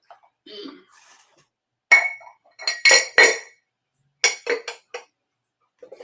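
Amber Indiana Glass Stars and Bars fairy lights, a vintage glass string light set, clink and rattle in several separate bursts as they are handled, close and bright against near silence.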